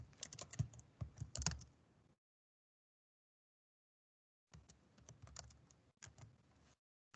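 Computer keyboard typing, two close bursts of rapid, uneven key clicks separated by about two seconds of silence, loud and dry with no voices.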